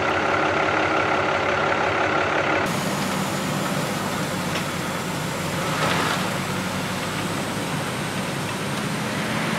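A truck dumps road-building material onto a gravel road under construction, with a loud, steady engine rumble and broadband roar running throughout.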